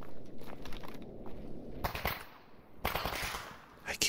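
Gunfire from a mercenary in S.T.A.L.K.E.R. GAMMA, with two loud bursts of shots over a crackling background, the second burst longer and heavier.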